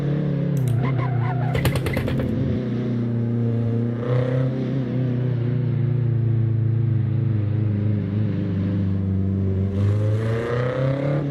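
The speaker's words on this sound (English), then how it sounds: "I'm driving the old school BMW M3." Old-school BMW M3 engine in the Assetto Corsa racing game, a sustained loud revving drone whose pitch rises and falls with gear changes, accompanied by rapid clicking bursts.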